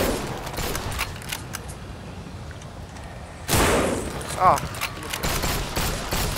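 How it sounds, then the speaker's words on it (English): Rifle shots in the zombie shooter No More Room In Hell, a few sharp cracks standing out from a low background, the loudest bursts in the second half, with a brief exclamation from a voice. "I'm gonna start using the rifle. I've got 10 rounds in this."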